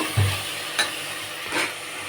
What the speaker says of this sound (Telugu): నేను మటన్ కూర వండుతున్నాను